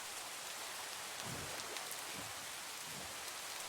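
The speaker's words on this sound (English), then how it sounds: "Perfect timing, rain." Steady rain falling onto open water, a dense, even hiss of countless droplets pattering continuously at close range, with no voices.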